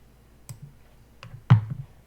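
Computer mouse clicking while a file is dragged, two or three crisp, close clicks in a quiet room with no voices.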